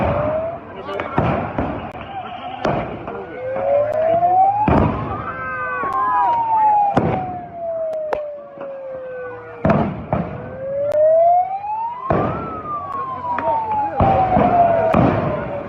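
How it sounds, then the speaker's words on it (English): Flashbang grenades deployed during a police dispersal, heard as several loud sharp bangs spread through the scene, with a police siren wailing up and down repeatedly, and voices under the noise. "you don't realize how many flashbangs were deployed"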